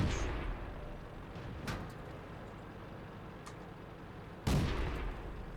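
In World of Tanks, a British Cruiser Mk. 4 fires two heavy cannon shots, one early and one louder blast later, set against a low engine rumble.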